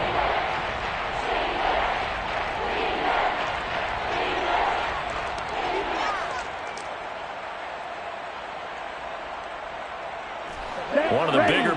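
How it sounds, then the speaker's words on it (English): A football stadium crowd roars steadily during a big third-down moment late in a Week 15 game, a loud continuous wash of cheering that eases slightly toward the end before a brief surge. "the crowd getting into it as we come up on a big third down"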